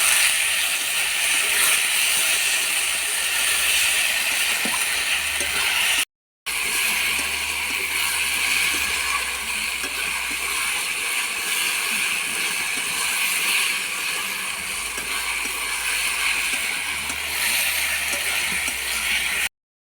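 Chopped tomatoes with salt fry in a pan for a chicken curry, giving off a steady, even hiss that runs on with only a brief break.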